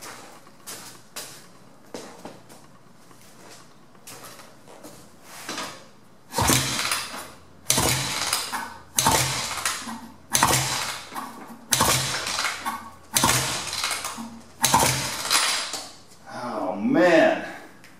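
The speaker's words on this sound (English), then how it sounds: "let's crank this over a few times and see how much compression we have" A dirt bike engine cranked over repeatedly for a compression test, a regular series of loud mechanical strokes with scattered clicks at first, close and alone.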